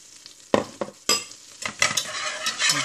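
Flour being stirred into melted butter for a roux in a pan, with scraping strokes of a utensil and a soft sizzle in irregular bursts, close and fairly quiet.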